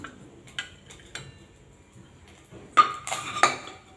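Ghee-fried paal kolukattai dumplings being moved onto another plate with a steel utensil, a series of light metallic taps and scrapes followed by a louder cluster of clinks, with no speech.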